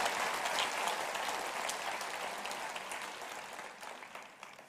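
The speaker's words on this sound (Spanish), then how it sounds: "Dale un aplauso al Rey bendito." Applause from a church congregation during a Sunday sermon, dense steady clapping that gradually tapers off over a few seconds, moderately loud and without talk.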